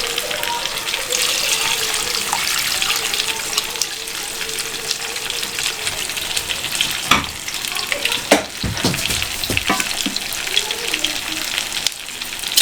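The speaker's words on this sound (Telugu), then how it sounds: "ఇందులో చింతపండు పులుసు పోసేసుకుంటా." Tamarind juice poured into a pan of frying fish, a steady loud sizzle and bubbling hiss with a few sharp spatters and stirring clinks near the end.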